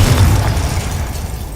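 Confringo fire blast spell in Hogwarts Legacy: a single heavy, close boom with a rumbling low-end tail that fades over about a second and a half.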